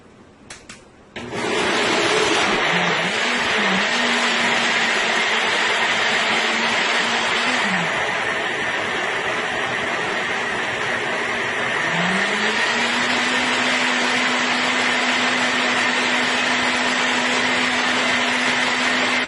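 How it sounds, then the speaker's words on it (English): A blender blends coconut pieces with water in a pitcher, kicking in after about a second as a loud, close, steady whirring roar that holds to the end with slight shifts in pitch. "right now I have my coconut into my pitcher here with my water. Now I will go ahead and start blending this"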